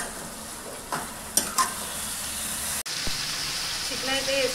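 Two kilograms of chicken go into a pan of frying onions for chicken curry, a close sizzle broken by stirring scrapes and knocks, with a sharp clatter midway and brief background voices.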